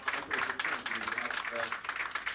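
Crowd applause for a police bike team at a bicycle handover ceremony, steady moderate clapping throughout with a voice talking over it.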